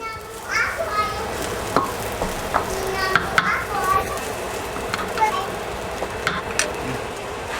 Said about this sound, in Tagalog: Haluin nyo lang maigi.